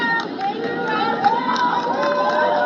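Crowd cheering and shouting at a rally for Luigi, a dense wash of many voices with scattered whoops, steady and fairly loud throughout.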